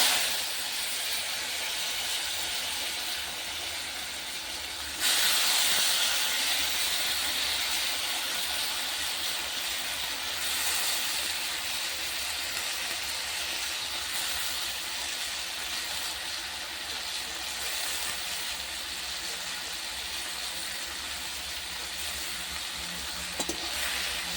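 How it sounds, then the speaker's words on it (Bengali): Potatoes frying in hot oil for an egg and potato dish, a loud, dense, continuous sizzle heard up close that swells briefly when the potatoes go in and then holds steady throughout. "ওই তেলের মধ্যে তো আলু দিই"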